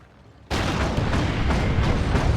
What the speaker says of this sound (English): Las Cannon and Auto Cannon getting shots.